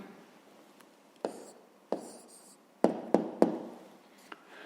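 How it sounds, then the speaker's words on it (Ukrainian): Pen strokes and firm taps on paper while a math answer is written down, several sharp knocks spaced irregularly over faint background hiss. "записуємо відповідь"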